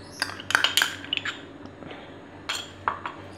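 Melted chocolate, milk and fresh cream are stirred together into ganache in a pan, with a few sharp utensil clinks against the pan and soft, wet squishing sounds, close and without talk.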